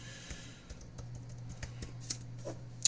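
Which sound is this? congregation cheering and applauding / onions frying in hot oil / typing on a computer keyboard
typing on a computer keyboard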